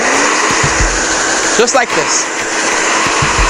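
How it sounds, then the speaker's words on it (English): A blow dryer set on high heat, used to dry the metal foils of a BabylissPRO cordless Metal Foil FX shaver, hums steadily and close throughout, with someone talking briefly over it. "just take a blow dryer, all right, on high with high heat, and just start drying the foils first"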